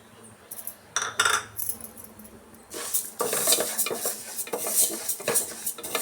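Moong dal roasting with ghee in a pan, first quiet then louder scraping and stirring with metal utensil clatter over a soft sizzle, close and uneven, with no voices.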